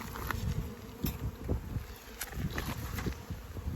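Honeybees buzz steadily and close by at a beehive in an apiary as the hive is being closed up, forming a dense, continuous hum with no voices.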